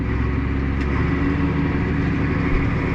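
A tractor engine holds a steady idle on the hand throttle, a constant close mechanical drone with even loudness and no revving.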